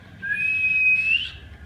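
A single sustained whistle, a thin high tone rising slightly in pitch, lasting about a second over faint background noise.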